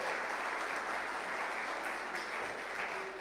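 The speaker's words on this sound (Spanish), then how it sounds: "Dale un aplauso al Señor." Applause from a church congregation, broad and sustained, filling the room at an even level for a few seconds with no voice over it.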